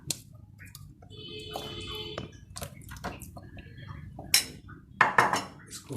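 A spoon clinks and scrapes in a dish while spreading mixed masala over fish for a tawa fish fry, quiet, scattered metallic taps and knocks close by with pauses between them, without talk.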